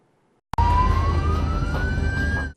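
An ambulance siren on a road in Ordu, Turkey, cuts in abruptly after a short silence, loud and close, as one long wail that slowly rises in pitch over a rumble of traffic.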